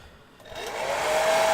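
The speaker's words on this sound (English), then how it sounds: "quickly dry it with a hairdryer" A hair dryer switches on to dry basing texture product on a miniature base, its airflow rising from quiet to a steady loud whoosh with a faint whine.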